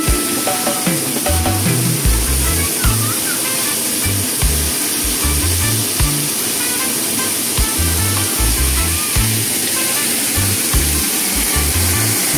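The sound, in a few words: water flowing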